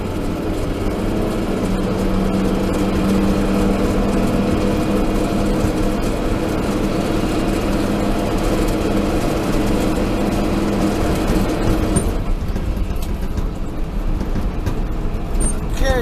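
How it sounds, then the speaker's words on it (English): Logging trucks loaded with logs rumble past on old California Highway 99 near Mt. Shasta, a loud continuous engine and tire roar that keeps up steadily throughout, with someone talking over the traffic. "Boy, sure there's a lot of logging trucks running by with logs on them today."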